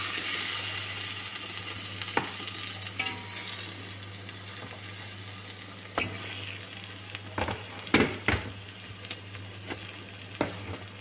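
Marag fish fries in a pan of oil, a steady sizzle with a low hum beneath and scattered sharp crackles and pops, clustered toward the end.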